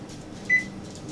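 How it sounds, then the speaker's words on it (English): A kitchen oven gives one short, clear electronic beep as it is switched on to heat, close by over a quiet room hum. "right now I'm going to go and turn on my oven"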